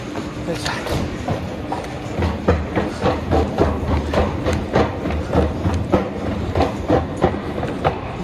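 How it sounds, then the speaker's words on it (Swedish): A Stockholm metro train on the southern red line rolls out of a station with a steady rumble and rhythmic clickety-clack over the rail joints, close and loud, while voices talk over it. "Stora tåget går nu."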